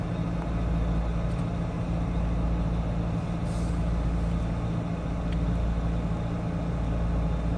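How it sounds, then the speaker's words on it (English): A truck turns at Love's truck stop in Statesville, North Carolina, its engine a steady low rumble close by with a faint hiss partway through. "And here comes a truck."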